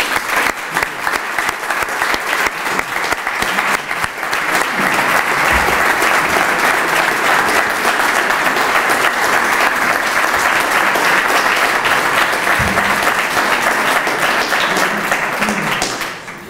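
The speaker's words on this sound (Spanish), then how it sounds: "Fuerte aplauso para Pepe Tatay." A strong, loud round of applause for triathlete Pepe Tatay at a presentation event, dense sustained clapping that swells after a few seconds and holds steady before tapering off.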